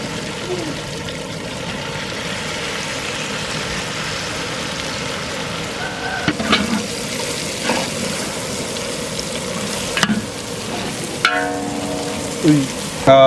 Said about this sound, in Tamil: மல்லி புதினா போட்டுட்டு ஒரு 2 நிமிஷம் வதங்கினா போதும்.